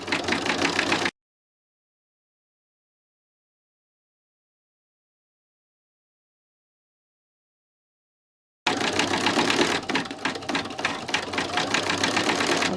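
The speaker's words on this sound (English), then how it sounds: "And now it's going to do this run." An embroidery sewing machine runs a stitching line with a dense, steady mechanical whir, heard briefly at the start, then cut off by a long stretch of total silence before resuming for the last four seconds.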